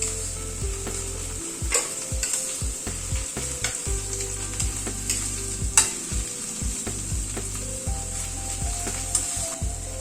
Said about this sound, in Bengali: রসুন বাটাটা একটু নাড়াচাড়া করে নিচ্ছি।